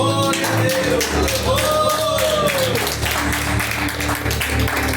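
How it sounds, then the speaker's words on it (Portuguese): A church congregation claps in a steady rhythm during a worship service, the sharp taps layered over loud ongoing music with sustained tones. "E as palmas para o nosso Deus."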